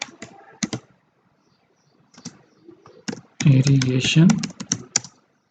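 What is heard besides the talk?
typing a map title on a computer keyboard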